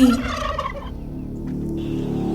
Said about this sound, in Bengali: এ ডাক তো মোরগের কাছে পিঠে কোথাও ডাকছে